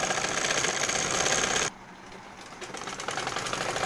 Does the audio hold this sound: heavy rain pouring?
no